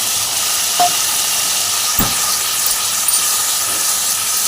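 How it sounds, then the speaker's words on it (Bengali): Shrimp added to a hot pan of frying spice paste, a loud continuous sizzle and hiss with a couple of soft clinks from a utensil, no voices. "আর এখানে চিংড়ি মাছটা আমি দিয়ে দিচ্ছি।"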